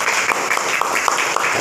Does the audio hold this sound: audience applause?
yes